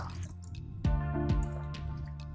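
Mustard cake fertilizer mixed with water is poured into a plant pot, with close liquid splashing and trickling, two distinct gushes standing out from a steady flow.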